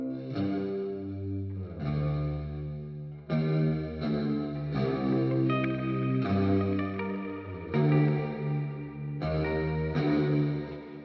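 Clean electric guitar chords ring out one after another through an amp plugin, each strummed and left to sustain with a shimmering, slightly chorused amp tone.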